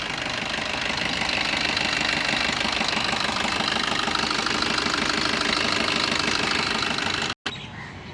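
A Maruti Dzire ZDi 2018 diesel car engine idles with a steady knocking rumble, close and loud, cutting out briefly near the end before running again.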